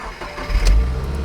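A completely stock Subaru WRX with 186,000 miles running on its stock exhaust, a steady low engine rumble that swells briefly as if lightly revved, heard close with no talking.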